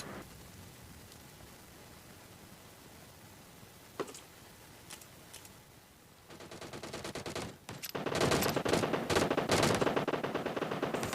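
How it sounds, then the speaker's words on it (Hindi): Heavy gunfire rings out in a video game battle: a steady background of crackle and hiss early on, with a few sharp shots, then dense, loud rapid bursts of automatic fire for the last few seconds. "और अंधाधुंध फायरिंग चालू हो गई थी"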